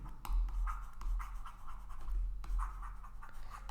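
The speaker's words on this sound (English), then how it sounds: "Let me write here." Handwriting on a board or paper during a deep learning lecture, with several short scratchy strokes in uneven bursts, fairly faint and with no talking.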